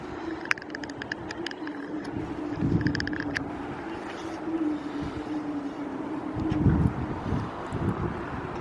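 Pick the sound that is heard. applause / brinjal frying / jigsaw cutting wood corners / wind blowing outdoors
wind blowing outdoors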